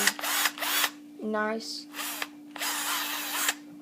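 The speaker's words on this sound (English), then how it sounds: "A very good impact drill for the toughest." Cordless impact drill from a beginner's toolkit, revving in several short bursts of a few tenths of a second each, close and fairly loud, with a brief spoken word between bursts.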